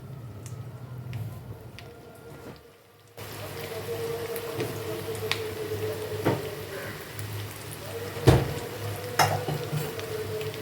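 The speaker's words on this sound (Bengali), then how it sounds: "এবার উল্টো পিঠটাও একটু লাল করে ভেজে নেবো" Giant taro (mankochu) fritters fry in oil with a soft, steady sizzle in the background, broken by occasional sharp clinks and taps of utensils; no talk is heard.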